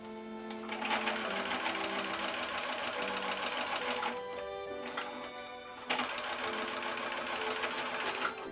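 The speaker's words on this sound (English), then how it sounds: "When top stitching, you don't need to go too close to the edge." Sewing machine top stitching a fabric bookmark made from scrap material, a steady close mechanical whirr of rapid needle strokes with a brief slowdown partway through before running on at full speed.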